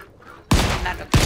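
Two sharp, loud gunshots in Volcanoids crack out about half a second apart, each with a punchy low thump and a short noisy tail.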